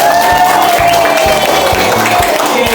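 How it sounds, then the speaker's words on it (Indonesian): Audience at a talk on innovative learning strategies applauds loudly, a close, dense burst of clapping with some crowd noise and a faint tone running underneath. "alhamdulillah tepuk tangan untuk semuanya"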